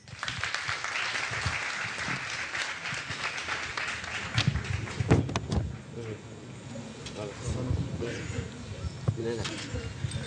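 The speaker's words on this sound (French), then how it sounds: "on va encore applaudir, s'il vous plaît, pour les différents candidats" Sustained applause from an audience fills the first half, then fades into a mix of scattered clapping and murmuring voices with some talk.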